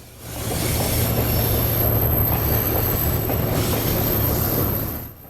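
An HO scale model train led by an SD40-2XR unit rolls past on a club layout with a loud, steady rumble and squealing wheels, swelling in and dropping away at the end, no voices.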